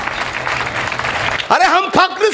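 Applause from an audience at a live comic talk by a Nepali speaker, a steady broadband patter for about a second and a half before a voice cuts in over it.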